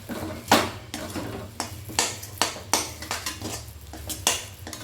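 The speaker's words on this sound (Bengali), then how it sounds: "এইভাবে একটু খুন্তির সাহায্যে চেপে চেপে কিন্তু কষে নেব।" Fish pieces being stir-fried and pressed down with a metal spatula in a pan, giving a run of sharp scraping and clanking strokes in an uneven rhythm, close and fairly loud, with no talking.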